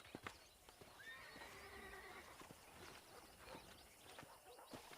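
Horses in the Red Dead Redemption western video game neigh and whinny over steady clip-clop hooves, a faint, distant herd of wild horses with repeated calls against low background noise.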